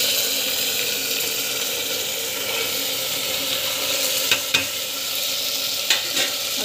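Brinjal and chana peas are sautéed in a pan for a chana brinjal puli kuzhambu, with a continuous close sizzle, a few scraping stirs of a spoon, and no talk.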